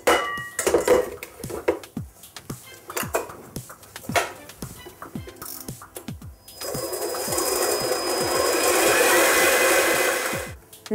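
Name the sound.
whisking egg whites with sugar at maximum speed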